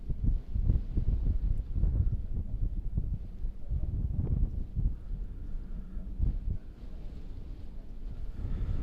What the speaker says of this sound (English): it is rather breezy up here and a bit chilly